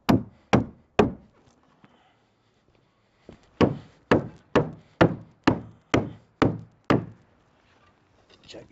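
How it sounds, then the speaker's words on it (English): A white non-marking mallet knocks log cabin logs into place, giving sharp hollow wooden thuds: three quick blows, a pause, then a steady run of eight evenly spaced knocks, close and loud with no talking. "we've got a white non-marking mallet."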